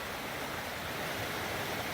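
River water rushes over rocks on the Wild Ammonoosuc in New Hampshire, where the bedrock steps down. A steady, dense, close hiss of flowing water runs the whole time with no voices.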